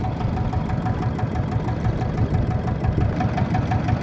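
A trawler boat's engine running on a wide river, a loud, steady, close chugging drone with rhythmic knocking throughout and no talking.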